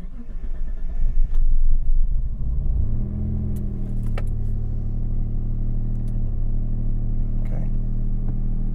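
A Mitsubishi 3000GT VR4 cranks and fires, then settles into a steady, loud, rumbling idle close by, with faint key jingles and a brief spoken word over the engine.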